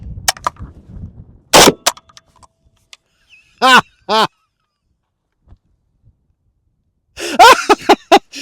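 A PSA AK101 rifle fed from a Palmetto magazine fires a few sharp, loud reports, first alone and then in a tight rapid cluster, with long quiet gaps between bursts.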